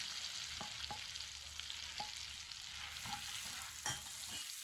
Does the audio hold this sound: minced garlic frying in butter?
yes